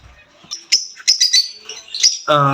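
Pet cockatiels in a breeding setup give sharp, high chirps and short whistled calls, close and fairly loud, in quick irregular bursts, ending on a harsher, buzzier squawk.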